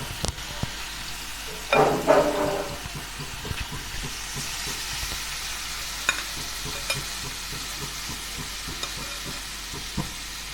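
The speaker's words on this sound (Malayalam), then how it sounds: "നമ്മൾ ഷാലോ ഫ്രൈ ചെയ്താണ് എടുക്കുന്നത്." Paneer shallow-frying in a pan for paneer tikka masala, a steady close sizzle with a louder burst of crackling early on, then light scattered pops and occasional utensil taps, with no speech.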